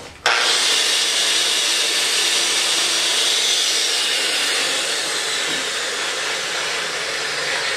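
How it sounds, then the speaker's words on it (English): A power tool polishes brazing off still-hot metal, giving a loud, steady, close whirring roar with broad hiss that starts abruptly and holds nearly constant with no talk. "I find this happens sometimes if you try to polish the brazing off when it's still just that little bit too hot."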